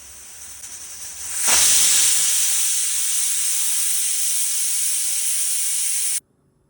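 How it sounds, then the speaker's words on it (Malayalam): Pressure cooker on a stove cooking egg curry, letting off a loud, steady rush of hissing steam that bursts in suddenly and holds for several seconds before cutting off abruptly, with no voices. "എന്നിട്ട് കുക്കർ അടുപ്പത്ത് വെച്ച് 2 വിസിൽ ഏൽപ്പിച്ച് കഴിയുമ്പോൾ നമ്മുടെ മുട്ടക്കറി റെഡിയായി"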